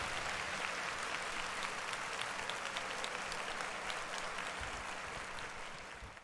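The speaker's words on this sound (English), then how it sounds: "We're going to clap it out." Steady, sustained applause from a crowd, dense clapping throughout that tapers slightly toward the end.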